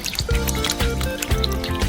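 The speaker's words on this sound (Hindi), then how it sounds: "इसलिए हम इन्हें सिंक में डालेंगे और पानी से भरेंगे" Tap water runs and splashes into a kitchen sink over dirty potatoes, a steady close trickling and dribbling with small drips throughout, no voices.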